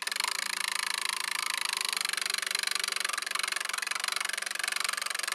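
A small homemade motor with a capacitor wired in parallel with its battery runs continuously, giving a fast, even buzzing rattle with sparking contacts, close up and steady with no voices.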